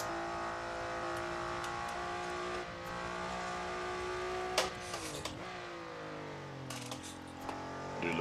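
An original NSX engine revs in the Assetto Corsa Shutoko Revival Project, racing the Tokyo streets: a steady, fairly faint harmonic drone that holds, then drops in pitch around gear changes, with brief sharp transients and no talk.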